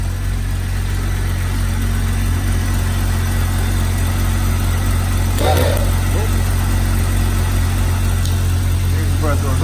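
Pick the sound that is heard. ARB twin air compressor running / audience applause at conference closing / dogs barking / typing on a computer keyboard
ARB twin air compressor running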